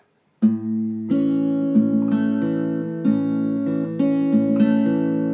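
Slow, clean guitar picking of a theme, individual notes ringing out one after another in an unhurried, steady pattern, close and clear with no voices.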